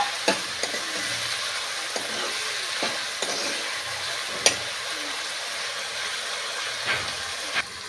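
Onions and tomato fry in a pan with a steady, close sizzle throughout, punctuated by occasional light clicks and taps of stirring.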